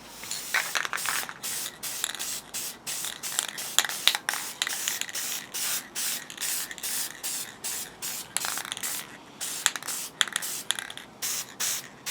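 Rust-Oleum chrome silver spray paint hisses from a can onto resin rivet heads, a latch and trim of a curio box, in rapid, rhythmic short bursts that repeat close and steady for the whole stretch.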